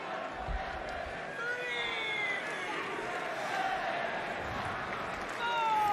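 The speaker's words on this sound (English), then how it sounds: "Crowd loves it here in Las Vegas" A crowd in a Las Vegas arena cheers and roars at a pro wrestling match between two women, a broad sustained swell that lifts near the end while a commentator talks over it.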